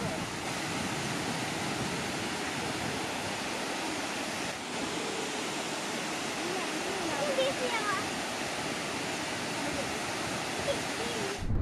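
A waterfall at Nagarjuna Sagar in the rainy season roars as a steady, dense wash of rushing water, loud and unbroken.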